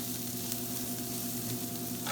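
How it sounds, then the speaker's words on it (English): Garlic sizzles steadily as it sautés in a pan with onions, a constant close frying hiss with faint stirring scrapes and a low hum behind it. "You want to be careful not to let your garlic brown."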